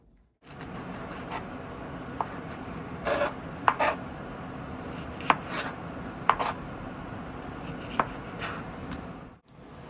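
A knife slices chicken on a cutting board in a home kitchen, with a few scattered, sharp taps and scraping strokes over a quiet background hiss, and no talking.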